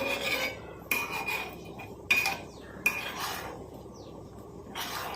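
A utensil scrapes and stirs boiling oil around a pan in a few repeated strokes, with light metallic clinks between them.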